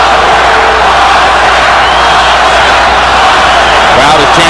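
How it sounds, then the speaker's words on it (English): A dense arena crowd roars without a break at a boxing match between Oscar De La Hoya and Bernard Hopkins, loud and distorted, with a rhythmic chant hard to pick out from the wash. "Crowd is chanting, Oscar, Oscar, Oscar."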